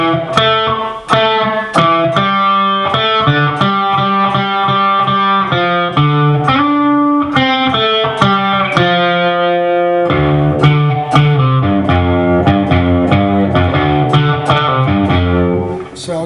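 An electric guitar with distortion plays a riff in a lesson setting, a loud, driving run of quick, repeated notes that continues steadily throughout, with no talking.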